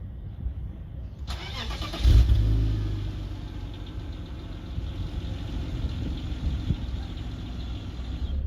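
A BMW 328i E36 engine cranks and fires up, then settles into a steady running hum as the car pulls away, with a burst of louder revving early on.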